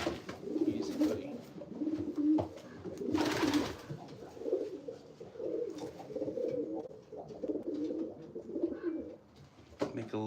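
Racing pigeons coo steadily in a loft, several birds overlapping in soft rolling coos throughout, with a brief burst of rustling or flapping partway through.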